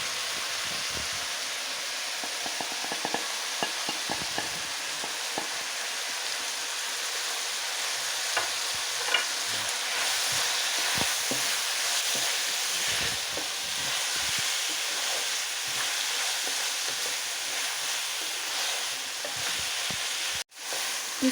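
Salt, red chilli, crushed chilli, turmeric and coriander powder being stirred into okra frying in a pan, a steady hiss of sizzling with soft scraping strokes that runs on for a long stretch.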